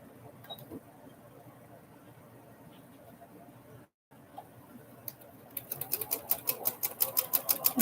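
A sewing machine stitching fabric starts up in the second half, a rapid run of sharp mechanical clicks growing louder and faster, after quieter room noise with faint handling sounds.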